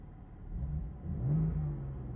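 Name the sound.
car engine with exhaust valves closed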